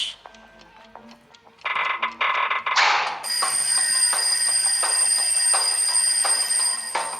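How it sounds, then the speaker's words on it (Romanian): A shrill electronic alarm rings continuously and loudly, following a few short clattering tones and chimes. "cred că pot auzi alarma sunând"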